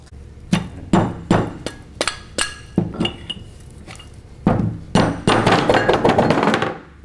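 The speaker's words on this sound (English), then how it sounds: "again using a soft head hammer" A soft head hammer taps off a check valve seal housing: repeated sharp metallic knocks in an irregular rhythm, close and loud, speeding into a quick burst of blows near the end.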